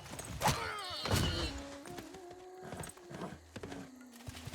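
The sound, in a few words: horses in the video game Civilization VI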